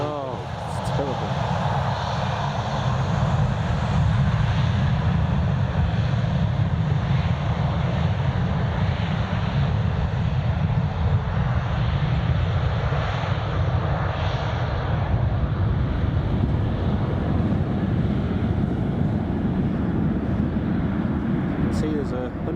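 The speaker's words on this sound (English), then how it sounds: "That's the Jet2 just departing now." A Jet2 airliner departing on takeoff at Newcastle International Airport, a sustained loud jet engine roar with wind buffeting throughout, heard from an outdoor spotting position with people talking over it.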